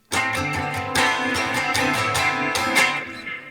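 One guitar chord from a song, fingered 5, 5, 5 with two open strings, is strummed repeatedly in a steady rhythm, ringing full and bright close up with no voice over it.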